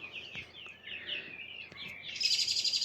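High, thin cheeping calls repeat in quick succession, growing louder and denser toward the end, close by and without talk.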